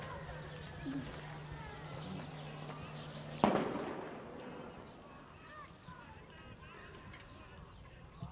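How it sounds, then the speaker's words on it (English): A sound bomb bursts once with a sharp loud bang amid the Israel-Palestine conflict in Gaza, its echo fading over a few seconds, with a steady low hum beforehand and faint bird calls afterward. "It's a sound bomb."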